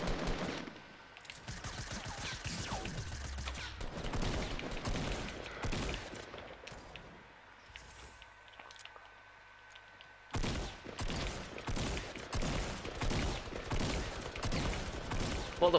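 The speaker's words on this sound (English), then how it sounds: "What the fuck is she shooting at?" Rapid bursts of video game gunfire in Fortnite, dense volleys of shots and automatic fire crackling close and loud, pausing briefly midway before resuming in heavy fusillades.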